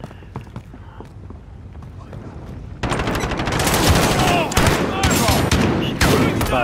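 Call of Duty Modern Warfare gunfire on PS4: a few scattered shots at first, then loud, dense machine-gun and rifle bursts crackling continuously, with a player talking over the noise.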